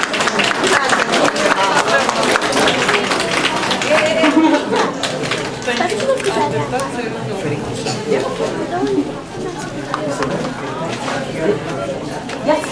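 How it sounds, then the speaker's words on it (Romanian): A crowd applauds the ambassador at a Romanian National Day gathering in Dublin, a dense, steady wash of clapping mixed with voices and chatter that carries on for the whole stretch. "Să aplaudăm pe doamna ambasador."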